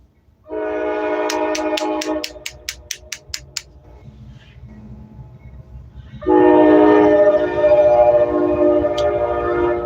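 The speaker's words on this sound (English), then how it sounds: "Train coming. Get ready. All you train fans out there." A train passes close by, its horn sounding a long blast followed by a rapid series of short toots, then the loud rumble and clatter of rail cars rolling past; no talking.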